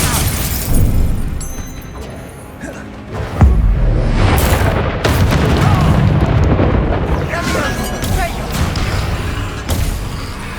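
Confringo blasting spell going off in Hogwarts Legacy on PS5: a loud booming blast followed by sustained rumbling, crackling debris and battle noise, with voices in the mix.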